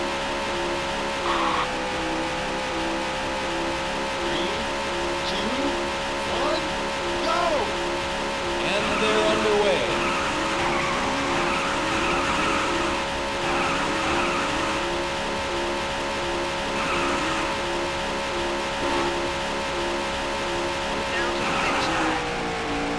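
Race car engines drone steadily in the video game Daytona USA, with occasional tire squeals and a crowd-like wash beneath, loud and continuous throughout.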